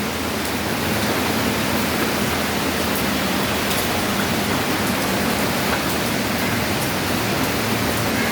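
Steady, dense rain hiss fills the scene, a constant broadband wash with no pauses or voices.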